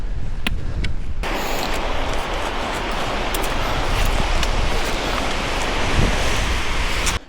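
Strong wind roars and buffets the microphone on an exposed New Hampshire 4000-footer hiking route near Mizpah, a steady loud rush lasting nearly the whole stretch after a brief quieter start, with a few sharp ticks.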